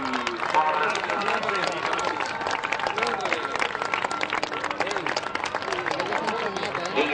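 A crowd at a Catalan mushroom festival applauds with dense, steady clapping for several seconds, mixed with chatter and a speaker's voice over the top.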